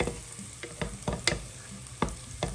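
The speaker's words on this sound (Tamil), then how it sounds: "அந்த அளவுக்கு நீங்கள் வதக்கி எடுத்துக்கோங்க வெங்காயத்தை." Sliced onions fry and sizzle in a pan while being browned for chicken pulao, with steady crackling and soft scraping stirs every fraction of a second, close and fairly quiet.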